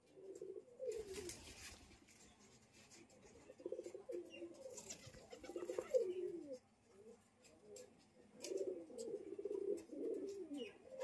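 Giribaz pigeons coo in soft, rolling phrases close by, repeating in bursts with pauses between, while people talk faintly and a few chirps and rustles come through.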